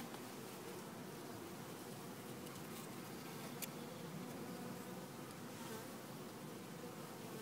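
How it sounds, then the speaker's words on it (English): Bees buzz around nonstop, a dense, fairly quiet droning hum with no voices over it. "There's gonna be some bees flying around"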